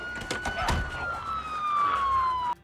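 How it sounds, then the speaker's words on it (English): In Project Zomboid, a police car siren wails in a long falling sweep over a busy game background of thumps and clatter, then cuts off abruptly. "set off the police sirens to create a distraction while you escape"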